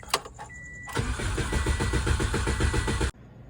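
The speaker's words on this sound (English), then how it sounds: "Swap fuel lines around. Let's try this again. See if she'll start up." Car engine cranks briefly, then catches and runs steadily for about two seconds after its fuel lines were swapped during a partial motor install on a lifted project car, loud and close, cutting off abruptly.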